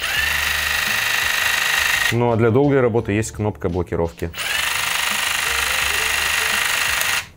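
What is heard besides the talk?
Makita DJV182 cordless jigsaw switched on and running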